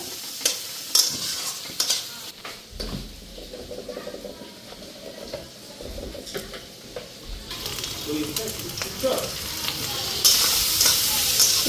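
Chow mein is stir-fried with soy sauce in a pan, with loud scraping and clattering of the spatula over a rising sizzle that grows louder and brighter toward the end, and a voice speaks briefly.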